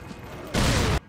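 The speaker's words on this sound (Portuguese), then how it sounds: "vamos jogar uma granada aqui, vai. Eu tenho uma explosiva." A grenade blast in Resident Evil 4: a single loud, broadband burst lasting about half a second, rising suddenly over quieter game noise and cutting off sharply.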